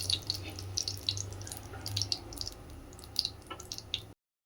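Mustard seeds spluttering in hot coconut oil with a little water in the pan, a crackle of sharp pops and sizzling spits, fairly close and quiet, irregular over a low hiss.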